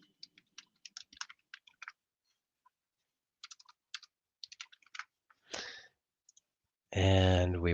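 Rapid computer mouse clicks come in quick clusters with short pauses between, close and crisp, followed by a brief rustle and then a voice starting to speak at the end.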